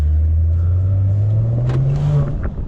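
A Maserati Ghibli S turbo engine accelerates, its loud, close drone climbing steadily in pitch over a few seconds before easing off near the end.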